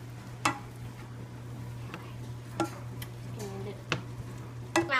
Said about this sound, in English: I use this little spoon to make sure my noodles don't stick to the bottom of the pan